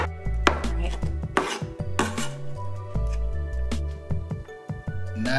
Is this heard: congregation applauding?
no